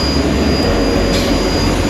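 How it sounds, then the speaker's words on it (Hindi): A GU40 diesel locomotive, number 9001, running on a Pakistani Green Line train bound for Lahore: a loud, steady, close engine drone with heavy low rumble and a constant high whine, unbroken and without talk. "तो ये है दोस्तों इंजन हमारा जो हमें लाहौर तक लेके जाएगा"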